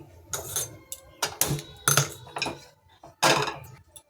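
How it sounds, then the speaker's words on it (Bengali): A metal kadai (wok) being set down and shifted on a lit gas stove in a home kitchen, producing several sharp clanks and scrapes in irregular succession, close and fairly quiet. "কড়াইটা বসিয়ে দিয়েছি, গরম হচ্ছে।"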